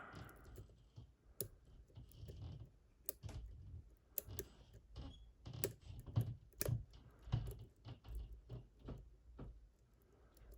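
A computer mouse clicks again and again in an irregular run of sharp, close taps, some clustered quickly, over a low background with no talk.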